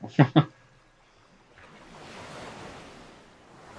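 Water ambience in the game Resident Evil Code: Veronica comes in after two short voice bursts, a soft, steady wash of lapping and rushing water that stays faint and continuous.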